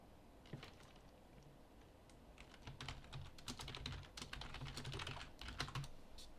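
Quiet, rapid clicking of keys on a computer keyboard, with an irregular run of keystrokes that grows denser and slightly louder partway through, and no voices.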